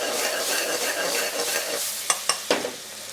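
Onions frying with ginger and garlic on high heat in a restaurant pot for chicken jalfrezi, a steady close sizzle with a few sharp stirring clicks near the end.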